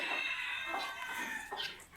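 Ornamental chickens cluck steadily inside a new coop, a continuous close chorus of short calls with no talk over it.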